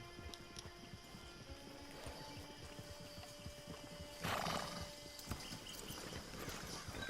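Hooves clip-clop in a steady rhythm over a constant ambient bed in Red Dead Online, broken midway by a loud, close whinny; a faint music-like tone hums underneath.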